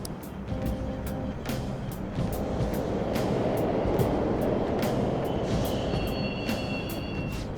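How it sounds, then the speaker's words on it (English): Subway trains rumble steadily through a station in Persona 5 Royal, a broad continuous roar of wheels on rails with clicking track joints and a faint high squeal toward the end, with no talking. "The trains are totally running!"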